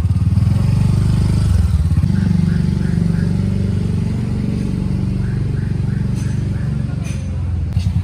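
A motorcycle engine runs steadily right after being started, a loud close idle with a rough rumble and some light clatter throughout.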